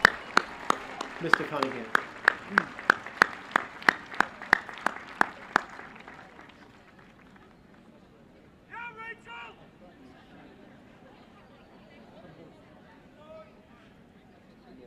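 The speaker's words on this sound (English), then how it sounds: "How about another big round of applause for both our concert groups?" Sharp, evenly spaced claps from the crowd at a high school graduation ring out for about six seconds, then fade to a quiet hall where a voice briefly speaks.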